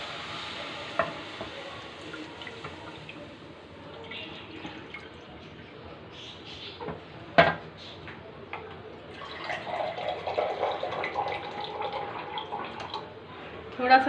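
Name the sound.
water being poured into a pan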